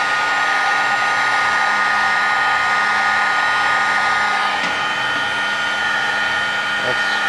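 A heat gun shrinking heat shrink tubing over a USB power cable, a continuous steady blowing hum with a constant tonal whine, plus a couple of faint clicks and handling taps partway through.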